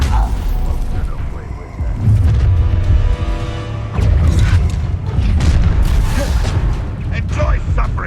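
An Incendio fire spell in Hogwarts Legacy bursts with deep booming thumps, repeated amid loud, busy combat noise and mechanical clatter, with a voice calling out among the impacts.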